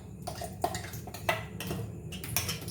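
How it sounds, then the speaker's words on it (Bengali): Ground chutney paste scraped and tipped from a grinder jar into a vessel in a home kitchen: repeated metallic clinks and knocks with soft wet slops, close and moderately loud, no talk. "আমি এটা একটা বাসনে ঢালছি"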